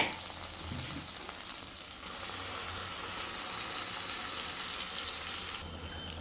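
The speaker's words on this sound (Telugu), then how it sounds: "ఫ్రై అయిన తర్వాత మనం ప్రిపేర్ చేసుకున్న మసాలా ఇందులోకి యాడ్ చేయాలి." Masala frying in a pan for a Telugu kandi ginjala (pigeon pea) masala curry, a steady loud sizzle with stirring scrapes, running continuously and dropping slightly at the very end.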